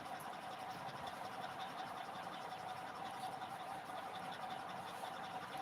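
A sewing machine stitching blouses runs as a steady, continuous mechanical whir and rapid chatter at low, even volume, with no pauses.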